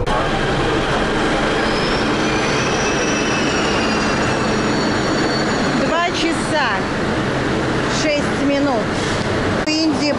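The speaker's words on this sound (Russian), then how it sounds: "Ну, хотя тут переполнен вагон." A crowded train carriage rides on the rails, with a constant loud rumble, faint wheel squeals and a few sharp clattering bursts near the end, while a voice speaks over the noise.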